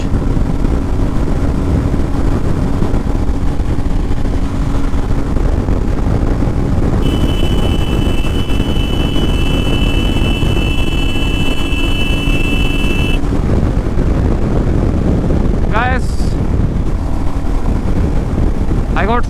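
A Royal Enfield Meteor motorcycle in fifth gear near 120 km/h drones loudly and steadily, its engine buried in heavy wind rush, with a brief whine partway through.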